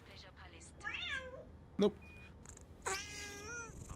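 A pet cat meows a few times, close by, with drawn-out rising and falling cries spread across a few seconds, while a person speaks briefly in between against a quiet room background.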